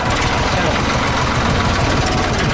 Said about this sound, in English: hitchhiking on a tractor now